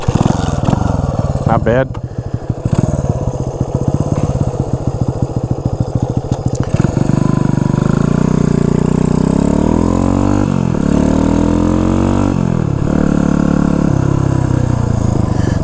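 A small, low-powered motorcycle engine cranks, catches and settles into a loud, close, chugging idle, with a few blips of the throttle, and a voice speaks briefly near the end.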